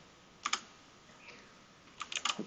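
Keys on a computer keyboard are pressed while working in a terminal: a quick pair of faint clicks, a pause, then a short burst of several rapid keystrokes, quiet and close.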